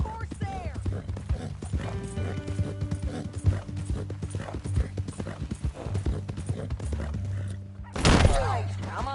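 Horse hooves clip-clop steadily in Red Dead Redemption 2, a close, rhythmic run of hoofbeats with scattered thunks, under in-game talk and music, ending in a louder burst near the end.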